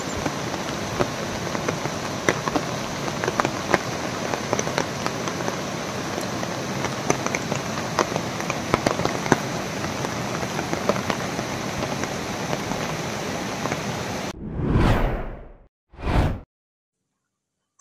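Heavy monsoon rain in coastal Maharashtra pours continuously with a dense hiss and patter for about fourteen seconds, then cuts off, followed by two short whooshing transition sounds and silence.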